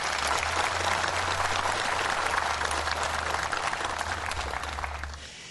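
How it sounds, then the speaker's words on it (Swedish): Audience applause for musicians on bass and guitar at a memorial concert, a loud, continuous crowd clapping that tapers off in the final second, with a low hum beneath. "De har lite extra applåder på dem där"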